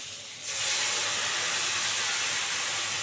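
Ground spice paste, made without onion or garlic, hits hot oil in a pan with a sudden loud sizzle that settles into a steady, close, bright hiss for a fish curry.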